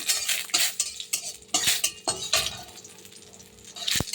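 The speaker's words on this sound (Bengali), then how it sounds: "রাঁধুনি জিরে মিলিয়ে আমি ফোড়ন দিয়েছি" Dried red chilli, bay leaf and cumin with radhuni seeds fry in hot oil in a pan, with repeated scraping stirs, clinks of a metal spoon and a soft sizzle underneath, close and fairly loud, with no talk.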